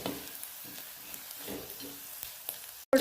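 Potato chips fry in hot oil with a soft, steady bubbling sizzle, faint and close, ending in a brief sharp handling knock.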